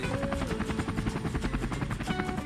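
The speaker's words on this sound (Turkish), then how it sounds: "Ve işte helikopterimiz piste doğru yaklaşıyor" A helicopter nears a runway to land. Its rotor chops in a steady, rapid rhythm, fairly loud and close throughout, with no talking over it.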